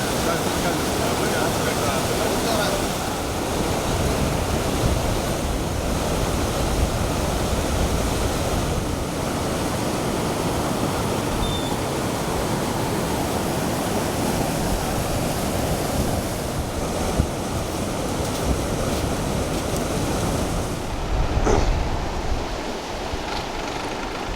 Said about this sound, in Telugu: దాదాపుగా కట్ట కూడా తెగిపోయి ఫుల్గా వాటర్ అయితే రావడం జరిగింది